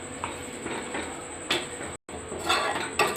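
Palm kheer with sugar being stirred in a pan, a few scraping and clinking strokes of a utensil against the pan over a faint background hiss, close and moderately loud.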